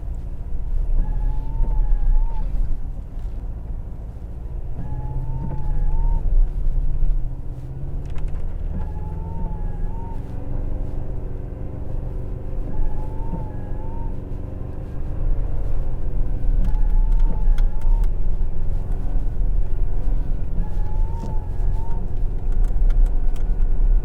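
A 2024 Toyota Tacoma TRD Off-Road on KO3 tires drives through snow, its engine rumbling steadily from inside the cab over a low road drone, with recurring light rattles and creaks.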